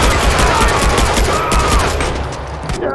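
Rapid, sustained automatic gunfire from the video game Far Cry 4 on very hard mode, dense overlapping shots filling the whole stretch at loud volume with no pauses.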